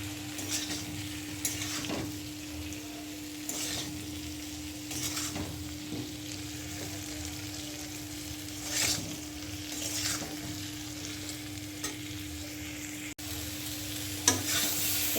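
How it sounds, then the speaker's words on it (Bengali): Fish frying in a pan with coriander powder, stirred by hand, gives a steady close sizzle with scattered spoon scrapes and clinks against the pan, and no talking. "এবার আমার একটু মাছ নাড়াচাড়া করবো"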